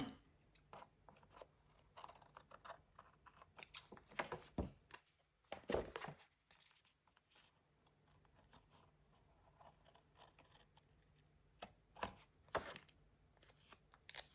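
Scissors snip away the excess from a greeting card, giving sharp, close cuts scattered across a quiet background. A cluster of cuts comes in the middle and a few more near the end, with no talk.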